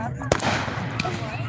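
Fireworks explode at a 4th of July celebrity fireworks show, with two sharp, loud bangs about two-thirds of a second apart over a steady background rumble.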